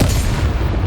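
A Confringo fire spell explodes in Hogwarts Legacy, a short loud booming burst with dense low rumble filling the whole moment, with no voices over it.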